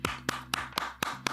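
Six slow, evenly spaced hand claps ring out close and clear, one person clapping alone while talking about a football match between Wolves and Arsenal.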